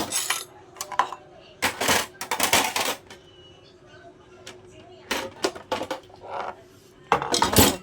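Dishes and metal cutlery clatter in irregular bursts in a home kitchen after a meal, handled for washing; someone talks quietly in between.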